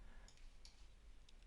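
Mouse clicks on the Add button in drawing-editing software, three faint, sharp clicks spaced apart over quiet background hiss.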